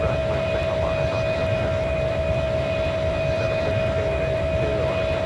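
An Embraer jet airliner roars at full takeoff power, a loud, unbroken broadband engine rumble with a sustained high whine running steadily through the whole stretch.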